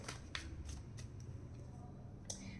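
Tarot cards riffle and flick in several quick soft bursts as they are shuffled, close and quiet, with faint low murmuring underneath.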